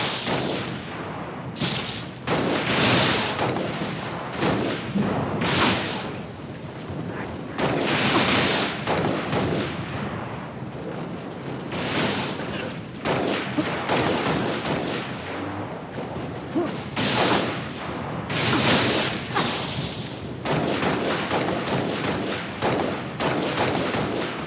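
Sustained heavy gunfire in Halo: Reach, dense overlapping shots and booming blasts that pulse loudly and almost without pause throughout.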